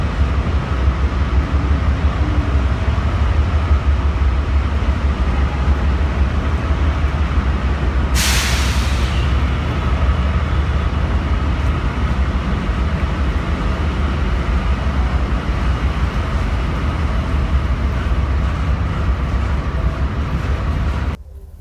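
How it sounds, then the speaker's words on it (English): Steady loud rumble of the Amtrak Zephyr train boarding at Chicago Union Station, with a sharp hiss of released air brakes partway through, continuous and close, with no talking. "That's my train boarding."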